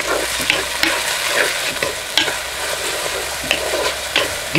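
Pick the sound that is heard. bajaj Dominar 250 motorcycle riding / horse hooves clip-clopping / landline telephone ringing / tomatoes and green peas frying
tomatoes and green peas frying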